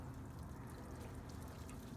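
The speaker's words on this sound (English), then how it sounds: "I just used up all my water on that one rinse." Water pours steadily over the rusty body of a 1957 Chevy A150 four-door, a continuous close splashing rush lasting about two seconds with no talk.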